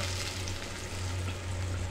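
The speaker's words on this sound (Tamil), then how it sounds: "அது நல்லா கடுகு பொரியுது" Mustard seeds spluttering and crackling in hot oil for Tamil thutuvalai rasam, a steady close sizzle with fine popping over a low hum.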